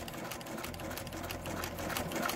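A sewing machine runs continuously while quilting a spiral, a close, steady whirring buzz with rapid needle chatter throughout.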